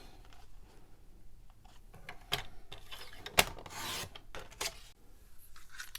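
Soft rasping slides of a paper trimmer blade cutting cardstock, a few quiet close scrapes and shuffles with one sharper click, in a calm craft-room setting.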